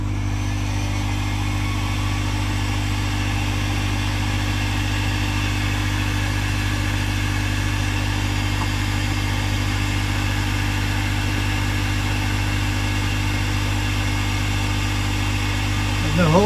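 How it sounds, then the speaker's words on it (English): A heat gun blows steadily on a piece of pipe while fitting an inline prefilter, giving a loud constant motor drone and airflow hum that stays even throughout, close by. "Warming up this piece of pipe with the heat gun."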